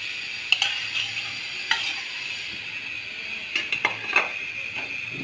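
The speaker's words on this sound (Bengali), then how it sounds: "এবারে এর ভিতরে আমি যে মাছটা মশলা কষিয়ে উঠে নামিয়ে" Spice-coated rohu and snakehead fish pieces are stirred and fried with vegetables in a pan, a bright steady sizzle broken by several clinks and scrapes of a metal spatula, with no one talking.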